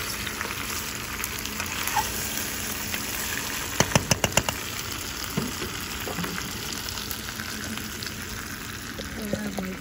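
Armored catfish (cascadoo) frying in a curry pot, a steady broadband sizzle running throughout with a brief cluster of sharp pops and crackles near the middle, close and moderately loud.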